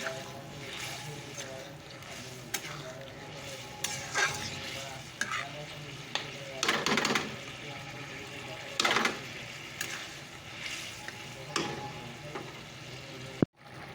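Chickpea curry being stirred and fried in a pan, with irregular scraping strokes of a spoon cutting through a soft, steady sizzle, close up and fairly quiet.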